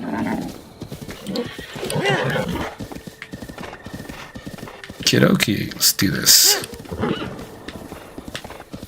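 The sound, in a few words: horse galloping, video game Zelda Breath of the Wild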